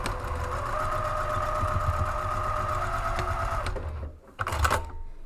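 A sewing machine stitching across a fabric caddy seam runs in a steady close mechanical whir for nearly four seconds, then stops, followed by a brief handling clatter.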